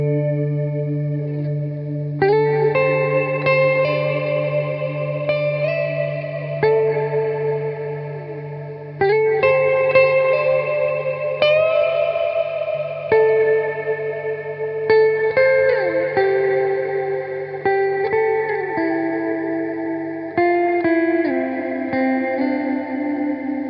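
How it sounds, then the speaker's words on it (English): Electric guitar played through a Mooer R7 budget reverb pedal, ringing chords and sustained notes washed in lush, chorus-like reverb with long decaying tails, steady and continuous throughout with no talking. "So those were my 7 favourite tones from the R7 from Mooer"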